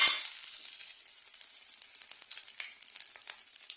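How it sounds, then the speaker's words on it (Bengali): Spice paste sizzles in hot oil with ginger paste, giving a close, steady crackling hiss with small pops as it is stirred, with no one talking. "এটা ওই 2-3 সেকেন্ড এটাকে একটু নাড়িয়ে গুলে রাখা মশলাটা আমি দিয়ে দেবো।"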